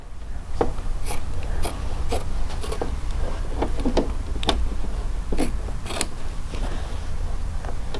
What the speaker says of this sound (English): I'm just going to cut away this material real quick